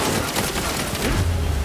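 Spell shots firing during a boss fight against Vorcanar in Wonderlands, a dense, loud volley of rapid blasts packed tightly together with a low rumbling boom swelling at the end.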